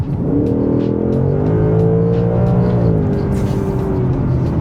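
A Ford Mustang GT's 440 hp V8 revs hard and steady, a deep engine with a rising and falling growl at close range.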